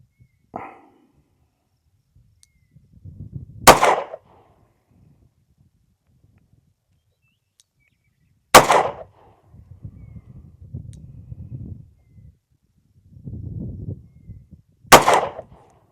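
Three revolver shots, .357 Magnum and .38 Special, each a sharp loud crack spaced several seconds apart, with low rustling and handling noise between them.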